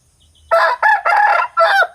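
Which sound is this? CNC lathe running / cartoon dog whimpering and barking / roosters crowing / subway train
roosters crowing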